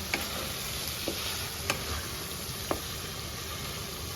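Spice mixture being stirred and fried in a pan, with a steady close sizzle and a few sharp utensil taps against the pan scattered through.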